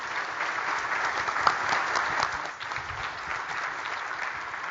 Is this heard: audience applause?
yes